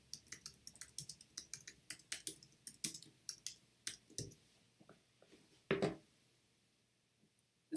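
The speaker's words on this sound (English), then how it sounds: "I'm typing to try and find where they are." Close, quiet typing on a computer keyboard indoors, a run of irregular rapid key clicks that slows, then a louder thump and a few sparse taps.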